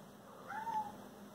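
A cat gives a single short, faint meow partway through, set against a quiet room with a steady background hum and no talking.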